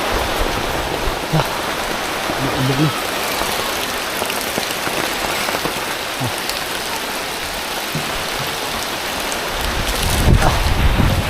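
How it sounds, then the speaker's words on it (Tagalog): Heavy rain pours down outdoors in a steady, dense roar, loud and unbroken throughout, with a deeper rumbling swell near the end. "Wow, the rain is falling down."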